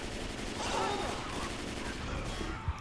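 AK rifle fire in the zombie shooter Left 4 Dead 2, a dense rattle of automatic shots under game noise, moderately quiet and continuous through the moment.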